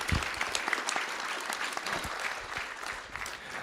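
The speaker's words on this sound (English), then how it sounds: "let's clap for these girls and their accomplishments" Applause for students honored at a school district board of trustees meeting, steady and moderately loud from a room of people, filling the whole stretch without words.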